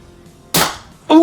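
A Monkee Mods Firefly blaster fires a solid bamboo slug dart: one loud, sharp pop with a short fading tail, followed half a second later by a second sharp impact-like smack, close and loud.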